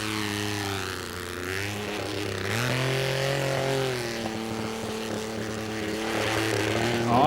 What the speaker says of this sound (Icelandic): Hér þarf Haraldur á öllu afli að halda sem hann hefur í vélinni og við heyrum það að gangurinn er frekar að versna en hitt.